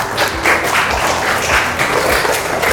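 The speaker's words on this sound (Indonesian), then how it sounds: "beri tepuk tangan buat teman-temannya" Indonesian schoolchildren in a classroom clap for their classmates, a steady, moderately loud patter of many hands lasting a few seconds with no talk over it.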